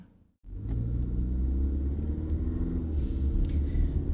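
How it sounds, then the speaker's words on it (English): A small-town senior-citizen transport bus rumbles steadily nearby, its low engine drone holding constant after a short quiet opening, with no talk. "the bus that picks up the seniors in our town"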